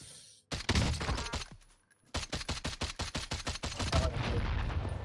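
DMR rifle firing in Call of Duty Warzone: a quick string of loud, punchy shots, a short pause, then a longer rapid sequence of evenly spaced cracks, up close and alone.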